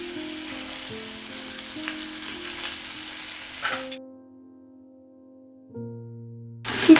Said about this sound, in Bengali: সর্ষেটা ফাটতে শুরু করেছে।